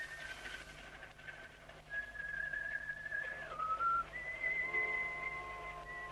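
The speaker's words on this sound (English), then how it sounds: "He'd whistled that tune of his for the last time." A man whistles a tune in an old-time radio drama set on a dock, the clear melodic whistle rising and falling over a low, steady background hum.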